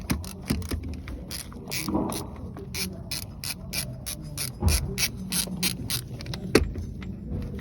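Hand tools work on a Toyota Hiace engine to remove its water pump, with rapid ratchet clicks coming in repeated bursts, some metallic clunks, and faint voices in the background.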